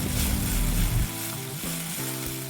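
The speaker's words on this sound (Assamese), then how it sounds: "ভালকৈ লৰাই ল'ম।" Onions sizzling and frying in a pan with turmeric for a pork rib curry, a steady dense crackle that softens partway through as stirring continues, with the spoon scraping a few times.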